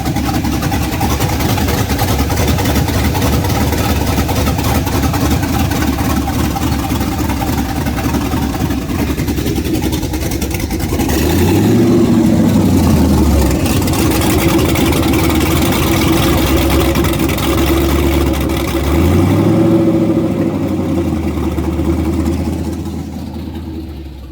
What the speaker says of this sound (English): It's probably got an exhaust leak.